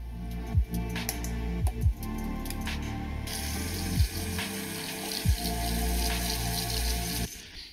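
Tap water runs steadily while flood-damaged PC parts are rinsed beneath it, a continuous hiss that brightens partway through, broken by a few low knocks and bumps.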